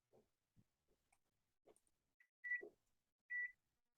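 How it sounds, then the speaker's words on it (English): Kitchen timer being set while cooking chicken curry vegetable stew: quiet clicks and taps from button presses, then two short, clear electronic beeps close by in an otherwise quiet room. "Going to set a timer"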